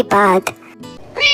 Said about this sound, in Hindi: हाँ, ये बिल्ली कहाँ रो रही है?